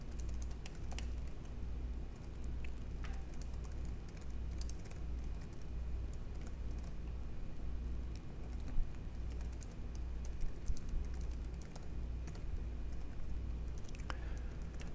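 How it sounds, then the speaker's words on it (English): Scattered computer keyboard keystrokes sound faint and irregular over a steady low background hum for the full stretch, with no voice. "you can type whatever you want"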